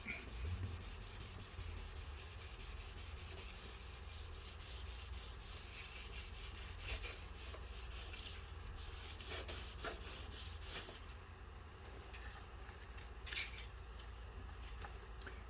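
Steady hand sanding of a plastic rear fender on a 2016 Jeep Cherokee, a continuous scratchy rubbing with repeated back-and-forth strokes, close and fairly quiet, with no talking.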